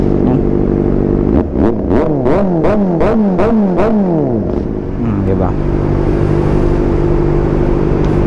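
A warm Kawasaki ZX-4RR motorcycle with an SC-Project aftermarket exhaust idles loudly with a deep, throaty note, blipping the throttle in several quick revs before settling back to a rumbling idle. A brief spoken word.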